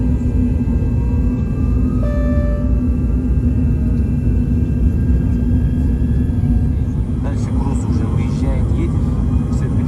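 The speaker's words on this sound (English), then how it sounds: "We are rolling and on our way to Osh on this beautiful classic aircraft." A classic TezJet Air MD-80 airliner rolls for departure in Kyrgyzstan, a loud steady cabin rumble and engine drone heard from inside throughout, with muffled voices and cabin sounds over it.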